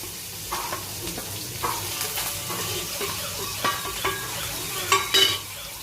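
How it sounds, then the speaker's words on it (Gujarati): Chopped onion sizzling in hot oil with mustard seeds and asafoetida, stirred with a spoon that scrapes and taps the pan every second or so over a constant soft fry hiss. "અને સાંતરી જાય ત્યાં સુધી આપણે એને હલાવતા રહીશું।"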